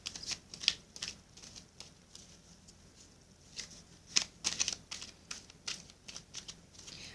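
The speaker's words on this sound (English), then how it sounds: "let me cut this beautiful deck for you" A deck of oracle cards is cut and handled by hand, soft scattered card flicks and light slaps in irregular clusters, quiet and close, with no talk.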